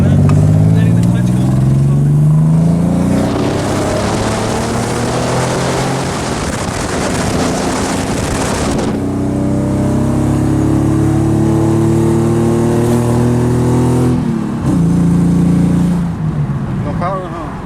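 A badly running Nissan 300ZX pulling in second gear, its engine droning loud and strained with a rising then falling pitch, lacking power, heard from inside the cabin as people talk over it.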